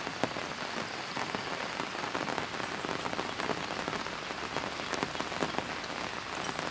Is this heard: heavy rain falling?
yes